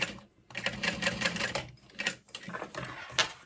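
A sewing machine runs a box stitch across a strap on a handmade convention bag, its needle chattering in several quick bursts separated by short pauses.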